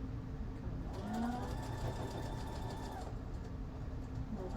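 Sewing machine running steadily while stitching stretchy jersey fabric from a thrifted shirt, a continuous close whirring hum that holds for about three seconds before slowing, with no talk over it.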